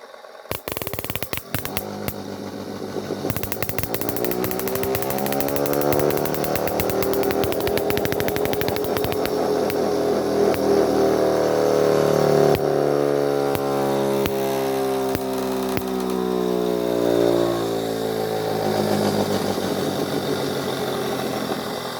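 A motor runs with a steady, buzzing drone that rises and shifts in pitch, preceded by sharp clicks and crackles as it starts up.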